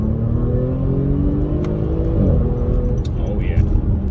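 An Audi S5 3.0 TFSI engine revs hard in second gear, a steady loud droning growl with rising tonal harmonics and no break. The engine has a P130A cylinder-disabling fault and a misfire.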